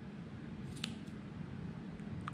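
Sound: scissors cutting angora rabbit wool

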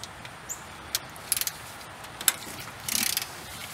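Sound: removing bolts from old Ford truck thermostat housing

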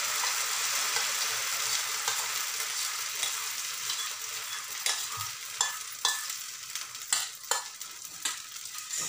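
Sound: uttapam batter poured into hot pan, sizzling

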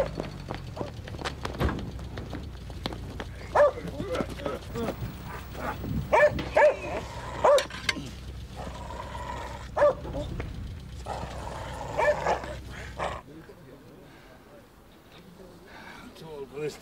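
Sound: dog barking

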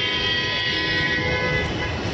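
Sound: Delhi metro train passing

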